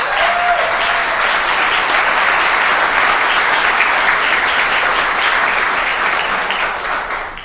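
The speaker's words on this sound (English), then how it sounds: "you should have applauded for the other stuff as well, because it was all good" Sustained applause from a city council meeting audience fills the room at steady volume for about seven seconds, tapering slightly at the end with no talking over it.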